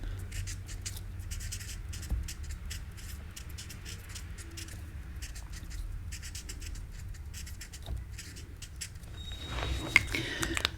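Pen writing on a surface, a faint, close scratching and tapping that continues irregularly throughout, with soft background noise.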